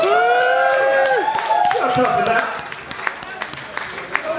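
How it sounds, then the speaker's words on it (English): Audience applause at a live gig in a London club: crowd clapping and cheering that swells, then thins into scattered claps, with someone talking over it. "I just give a big round of applause to all the bands that played."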